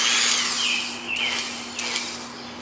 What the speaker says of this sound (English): It's a belt sander.